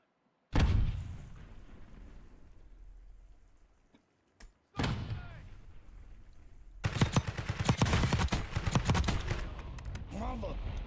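Bursts of automatic gunfire between rival players in Call of Duty: Warzone, starting with a loud volley, pausing, then returning as dense, sustained rapid fire with voices beneath.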